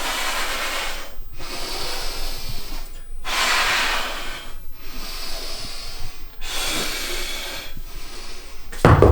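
Heavy breaths pushed through the nose and mouth during a dumbbell row, four long hissing exhales with short pauses between them, close and loud.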